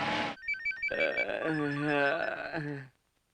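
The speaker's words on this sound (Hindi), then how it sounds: "अरे सोने में कौन मुझे फोन करके डिस्टर्ब कर रहा है?" A telephone rings in a dubbed South Indian action film, with loud electronic trilling bursts and tonal ring patterns repeating for about three seconds before cutting to silence.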